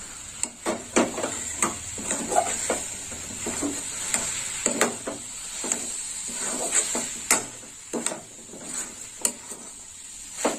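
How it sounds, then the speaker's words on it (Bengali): Coconut laddu mixture with milk stirred in a pan: a spoon scrapes the pan in repeated sharp strokes while a steady sizzling hiss runs underneath, with no talking. "ভালো করে নেড়ে চেড়ে নেবো এইভাবে।"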